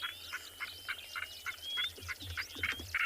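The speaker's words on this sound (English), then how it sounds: "There's a northern black coron calling." A northern black korhaan and eastern clapper larks call on a South African morning, with rhythmic repeated harsh croaking calls at a distance over faint background rumble, soft and steady.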